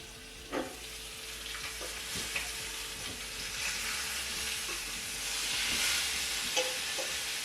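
Eggs frying in bacon grease in a pan, a steady close sizzle and hiss with small pops and crackles throughout, growing slightly louder toward the end.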